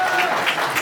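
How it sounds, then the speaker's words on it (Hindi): Loud, dense applause from a crowd at a student union election rally, a continuous wash of clapping with slight swells throughout. "जोरदार तालियां।"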